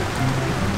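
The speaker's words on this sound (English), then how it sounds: "And now it's raining terribly, oh my god!" Rain falls in a dense, steady wash, loud and close, outdoors on a trail, with no voices.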